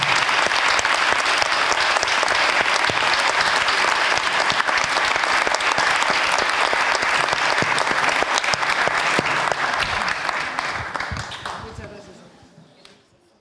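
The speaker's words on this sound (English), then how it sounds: "please also a big applause for all the team who is here" A documentary festival audience gives the film team a long, loud, dense round of applause that holds steady, then thins and fades out over the last few seconds, with a voice briefly audible.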